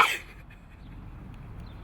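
A single short sneeze or cough bursts out at the start, close and sharp, then fades into quiet room tone.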